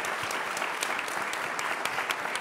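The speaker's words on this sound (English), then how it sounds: "give this panel a round of applause." Steady, dense applause from an audience for a panel at the White House, many hands clapping together at an even level throughout with no voices standing out.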